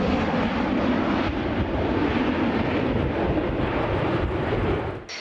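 A Rafale fighter jet roars overhead during an Indo-French joint exercise, a loud, sustained broadband engine rush that holds steady for several seconds before cutting off abruptly.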